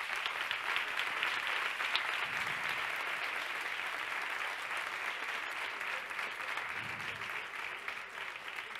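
Steady, dense applause from an audience at a sustainability meeting, loud and continuous for the whole stretch with no break, tapering only slightly at the end.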